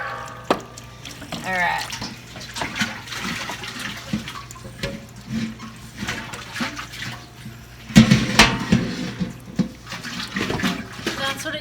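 Tap water runs into milking machine parts for a cleaning rinse, with splashing and gurgling close by, one short word spoken partway through.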